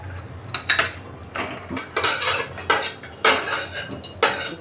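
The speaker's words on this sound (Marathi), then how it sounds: "आता आपल्याला याच्यामध्ये खारीक तळून घ्यायची आहे." Dry dates (kharik) are stirred in a pan with a metal spatula for a healthy modak recipe, making a close, rhythmic run of clinks and scraping strokes against the pan, roughly every half second, with no voices.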